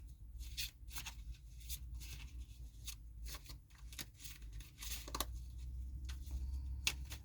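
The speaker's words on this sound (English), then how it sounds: "So let's shuffle these cards." A deck of tarot cards is shuffled close by, giving a faint, soft series of irregular papery riffles and flicks in a quiet room.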